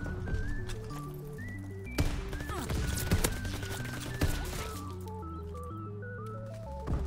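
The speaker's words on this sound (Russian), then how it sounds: "Вы же слышали второй выстрел?" Gunfire in a WW2 shooter video game, a few sharp reports at about 2, 3 and 4 seconds, set against steady game music.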